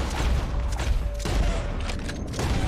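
Gunfire in Red Dead Redemption 2, a dense run of close shots blending into a continuous rumbling fusillade over the full stretch, loud and unbroken with no clear gaps.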